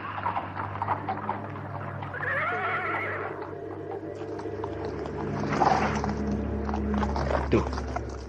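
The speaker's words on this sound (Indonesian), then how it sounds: "memacu kuda ke sini" A horse whinnies clearly in the midst of a mounted troop on the march, the neigh standing out over a low steady rumble with faint hoofbeats and brief voices nearby.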